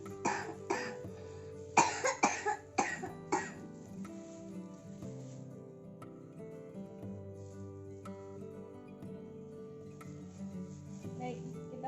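A few sharp coughs in quick succession during an effective coughing exercise, loud and close at the start, then giving way to a quieter sustained tonal background.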